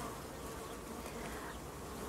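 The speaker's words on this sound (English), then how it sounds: "the bees are still working on it" Honey bees buzz steadily around a wax-filled honey super frame in a hive, likely holding sweet chestnut honey, a dense continuous close hum with no talking.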